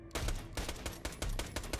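Rapid automatic fire from a Hyperion SMG in the video game Borderlands The Pre-Sequel, a steady burst of sharp repeated shots lasting throughout, loud and close with no talking.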